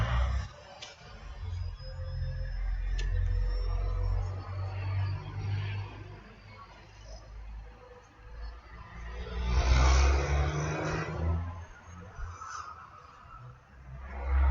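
Distant traffic rumbles low and continuously beyond a backyard, swelling and fading, with occasional honking calls above it and no speech.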